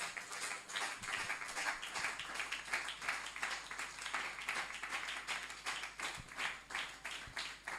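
Congregation at a youth revival meeting claps and cheers for the Lord, a steady wash of dense, sustained applause with rhythmic clapping pulses throughout, fairly distant and even in level.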